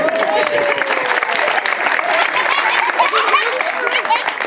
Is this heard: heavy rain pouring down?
no